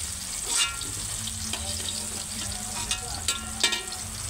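Chicken pieces fry in hot oil with a steady, close sizzle and crackle, punctuated by a few sharper pops and stirring scrapes.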